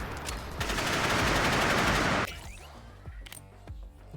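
Rapid barrage of missile fire in the Nimrods video game, a dense, loud rattling stream of shots for about two seconds that cuts off abruptly, followed by scattered fainter impacts and pops.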